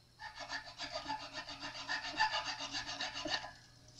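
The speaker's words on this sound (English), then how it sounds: "Because it's a composite nut. And it tends to load up my file quite quickly." A file works a composite nut on a Fender Precision Bass in a rapid run of close rasping back-and-forth strokes lasting about three seconds, then stopping, with no talk.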